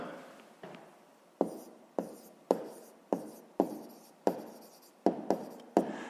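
A pen writes on paper during a maths exercise, producing a close, quiet series of about ten short scratching strokes in an uneven rhythm against near silence, with no talking.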